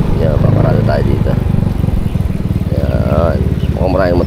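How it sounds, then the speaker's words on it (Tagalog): Motorcycle engines idle and rumble nearby in a busy parking area at an island fiesta, a steady pulsing putter with a rider revving at moments while someone talks over it. "mukhang maraming motor ngayon"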